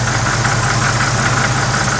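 A 1976 Ford Maverick with a 302 V8 idles steadily nearby, a loud, continuous low rumble with a faint knocking pulse from its dual exhaust, no voices.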